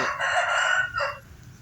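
A bantam rooster lets out one loud, close crow, a bright strained call that breaks briefly before trailing off.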